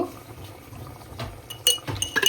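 Pot and utensils clinking while chicken curry simmers with water and salt: a few light metallic clinks and scrapes near the end, close and alone, over a soft background.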